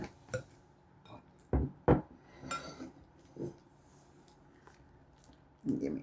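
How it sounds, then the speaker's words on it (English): A whisk mashes five extra-ripe bananas in a bowl for banana bread, giving sparse, uneven clunks and scrapes against the bowl with quiet gaps between them. "I'm having to mash them up with the whisk and the 5 bananas"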